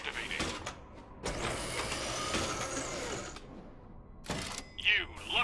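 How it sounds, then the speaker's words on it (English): A grinder machine in Borderlands: The Pre-Sequel starts up with a clunk, then churns through a long whirring, grinding mechanical stretch before further clanks and a warbling electronic tone. "Grinder activating now."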